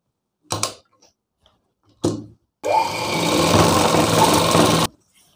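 A sewing machine stitches a school uniform coat, starting with two short bursts and then running in one steady, loud whir for about two seconds before it stops.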